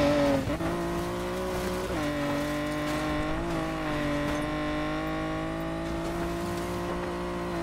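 A car races on dirt in the Need for Speed Payback video game, its engine droning loudly and steadily with rising and falling pitch as it shifts gears.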